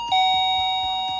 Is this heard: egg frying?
no